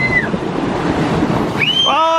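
Waves splashing at Bridlington beach with the tide fully in, a steady broadband wash of surf running through the whole stretch, close and loud, with brief high voices and squeals breaking in near the end.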